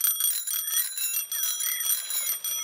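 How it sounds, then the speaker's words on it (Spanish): A pair of bicycle bells in a cartoon ring in rapid repeated bright metallic trills, with clear high ringing tones pulsing continuously and loudly for a few seconds, with no voices. "Freddy Zorro ahora tiene dos campanas de bicicleta."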